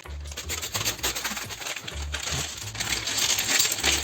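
Small hard plastic LEGO pieces rattle and clatter continuously inside a crinkling plastic bag being opened, close up, with shaking and rustling throughout and no speech.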